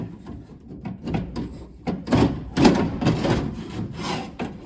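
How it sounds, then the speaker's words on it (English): A car window regulator is worked and shoved back into a door, giving a run of scraping, rubbing and knocking bursts of metal against panel, close by and moderately loud, with no talk. "Let's see if we can get this window regulator shoved back up in there."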